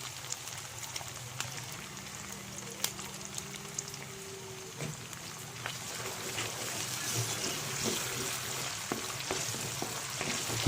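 Chicken sautéing in a pan with oyster sauce added, a steady close sizzle and crackle running throughout with occasional stirring clicks and scrapes.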